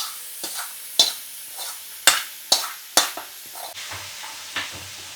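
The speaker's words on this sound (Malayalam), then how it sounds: "നമുക്ക് വെളിച്ചെണ്ണയിൽ മൂപ്പിച്ച് വഴറ്റിയെടുക്കാം" Button mushrooms sautéing in coconut oil with mustard seeds, a soft sizzle broken by several sharp pops and clatters from a spoon or pan.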